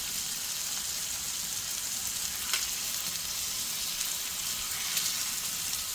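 Steak and potatoes sizzling on a griddle with real butter, a steady dense frying hiss holding evenly throughout with a couple of faint crackling pops, close and continuous with no talking.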